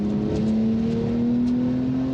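A 650-horsepower car engine, likely a V6, accelerating steadily with a strong rising drone that climbs smoothly in pitch, heard from inside the cabin, loud and continuous with no voices.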